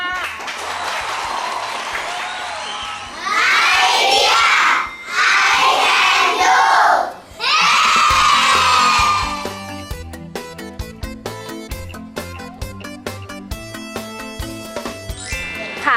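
A burst of clapping and cheering from a group of children at a hospital event, loud and close, in three surges before a jingly tune takes over.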